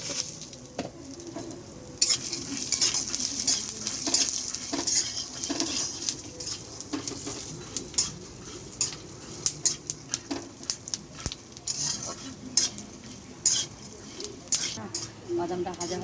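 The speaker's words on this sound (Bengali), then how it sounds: "প্রথমে বাদাম ভাজতেছি। তেল দিলাম" Peanuts fry in oil with salt in a pan as a utensil stirs them, giving clinks, scrapes and light pattering over a faint sizzle, while a person talks throughout.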